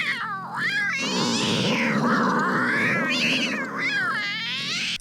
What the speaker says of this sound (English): the Civet, with a bit of a strange engine sound, a lot of cat-based sounds to it